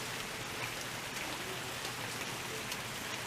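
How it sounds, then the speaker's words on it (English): Heavy rain pours steadily onto a porch during a stormy, windy spell, a dense continuous hiss of drops with no voices over it. "can you hear it? Hardcore raining."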